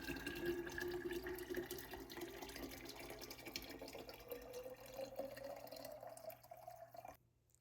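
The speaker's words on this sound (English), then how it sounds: "you're going to want to fill up your water bottle all the way with" Warm water runs from a tap into a water bottle in a steady, close pour whose tone climbs as the bottle fills, then cuts off abruptly near the end.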